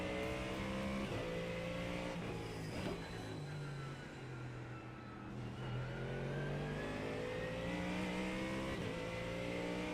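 A Mustang race car in a sim racing game laps the Nordschleife with its engine roaring continuously, revs rising and falling through gear shifts, loud and close, with no voices over it.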